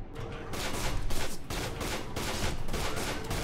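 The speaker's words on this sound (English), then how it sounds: "Who is shooting?" Rapid gunfire in The Chronicles of Riddick: Escape from Butcher Bay, a loud close fusillade of overlapping shots with sharp bursts and brief gaps, continuous for a few seconds with no talking.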